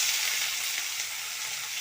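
Fish sizzles in hot coconut oil with curry leaves, a steady bright crackle and hiss that stays even and fairly soft throughout.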